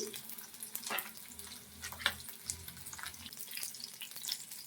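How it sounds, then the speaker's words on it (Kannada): Green chillies, onion, garlic and ginger fry in oil for chicken biryani, a quiet close sizzle with occasional scraping stirs and small crackling pops throughout. "ಹಸಿಮೆಣಸಿನ್ಕಾಯಿ ಚೆನ್ನಾಗಿ ಹುರಿದಿದೆ, ಈರುಳ್ಳಿ, ಬೆಳ್ಳುಳ್ಳಿ, ಶುಂಠಿ"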